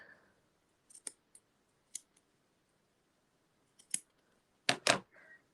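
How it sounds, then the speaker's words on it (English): Scissors snip through yarn loops on a handmade llama, a few sharp close clicks spaced apart, then a quick pair of louder snips near the end against an otherwise quiet background. "And then you can just cut your loops."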